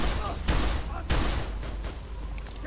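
Gunfire in the multiplayer mode of F.E.A.R. 3, aimed at ghosts, with two sharp bursts of shots close together followed by trailing lighter shots and rumbling game ambience.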